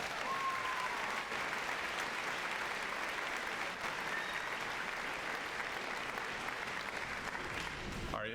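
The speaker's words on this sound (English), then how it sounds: "Let's have another round of applause for all of our class teachers" A crowd applauds the class teachers at a high school commencement ceremony, a sustained wash of clapping from a large audience that holds steady for several seconds before tapering at the end.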